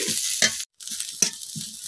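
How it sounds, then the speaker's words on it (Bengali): Spice paste frying in a little oil in a pan, a close hissing sizzle broken by a brief dropout, with repeated soft stirring scrapes at an uneven rhythm. "এখন খুব ভালোভাবে পেস্টি ভাজা নিলাম।"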